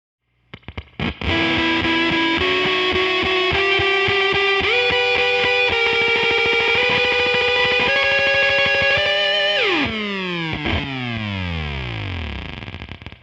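An electric guitar runs through a Beetronics Swarm fuzz pedal on a different species setting: loud, thick, buzzing sustained chords step up in pitch, then swoop downward in a long warbling dive as they fade.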